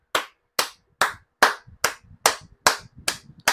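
Eight sharp, evenly spaced hand claps ring out one after another, crisp and close, with a faint low murmur between them.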